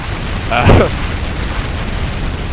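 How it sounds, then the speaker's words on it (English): A nuke bomb goes off in Minecraft with the Rival Rebels mod, a loud rumbling explosion swelling briefly over a constant heavy roar of game noise. "you can even hear it going, and there's the bomb"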